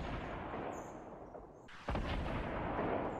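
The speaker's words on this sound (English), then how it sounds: "Lot of rockets." Rockets fire and explode in a Fortnite Battle Royale match: a rumbling background gives way to a sudden loud blast that keeps booming and roaring to the end.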